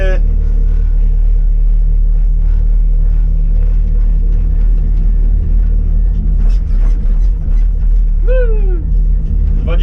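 Mecalac 12 MX wheeled excavator rolling downhill with the throttle eased off, its diesel engine a steady close rumble with a constant low drone throughout, and a brief rising whine near the end.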